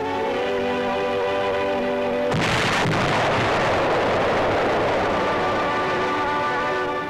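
A large wartime explosion at a Bombay harbor ammunition dump in 1944 bursts out abruptly after a few seconds of steady background, then a loud, sustained rumbling roar follows and fills the rest of the clip.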